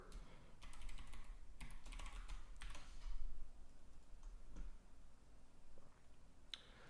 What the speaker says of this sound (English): I'm going to go ahead and type in the spending password.